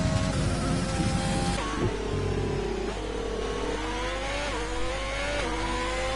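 A McLaren racing car engine in a racing video game screams through the final corner and across the finish line, rising and dipping in pitch with quick gear shifts. The loud engine note runs continuously without talk.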